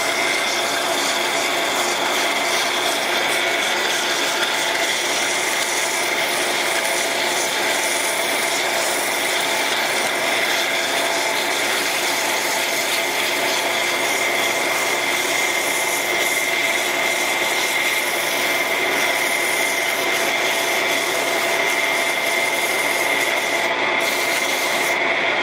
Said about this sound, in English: With the coarse grit to rough out the shape of it, rounding the corners, taking out any of the saw cut marks.